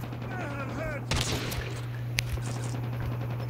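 Call of Duty Mobile sniper match: someone talks briefly before a sharp, loud sniper rifle crack, followed by a second, quieter report, all over a steady low hum.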